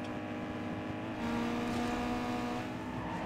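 Honda Civic engine in Need for Speed Underground 2 Redux, a steady droning engine note that steps up in pitch partway through as it shifts gear, heard alone at moderate level.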